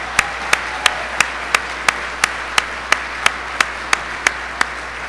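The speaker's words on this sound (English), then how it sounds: "Let's give John a round of applause." Clapping at a conference dinner event, heard as fourteen sharp, evenly spaced claps over steady room noise rather than a full crowd's applause.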